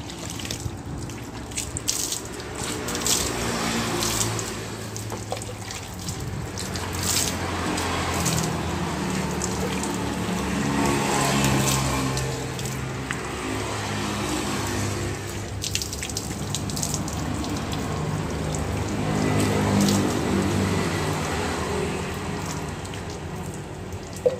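Water is poured and splashes over a cleaned car windshield, a continuous close gushing and spattering that lasts throughout with no talk.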